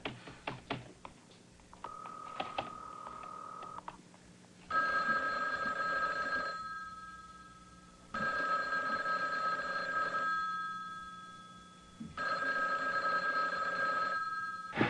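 A telephone rings in repeated long electronic bursts with pauses between, going unanswered; a few clicks and taps come before the ringing starts.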